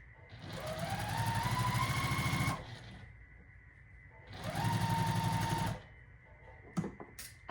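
A sewing machine stitches quilt block seams in two steady bursts of about two and a half seconds each, with a pause between them and a few small clicks at the end.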